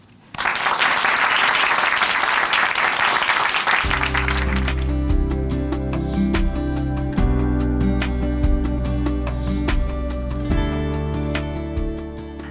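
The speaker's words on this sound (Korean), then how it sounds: "자매님 박수로 모십니다." Audience applause in a church broadcast welcoming someone speaker from Chuncheon Hanmaum Church. Loud dense clapping lasts about four seconds, then gives way to sustained instrumental music that carries on to the end.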